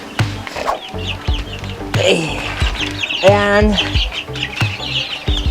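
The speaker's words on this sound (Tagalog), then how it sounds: "yung mga alaga ko nga pala na manok pala" Chickens cluck and squawk nearby in short bursts, mixed with farmyard bird chirps while a person talks briefly over them.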